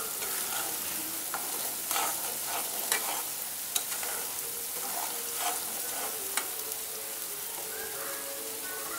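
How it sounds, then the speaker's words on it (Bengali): Turmeric and chili powder sautéing in a pan, a soft continuous sizzle with occasional light scrapes and taps of a spoon as it is stirred, no voices. "যেন হলুদ মরিচের গন্ধটা চলে যায় জন্য আমি এটা এক দেড় মিনিট ভালো করে কষিয়ে নেব।"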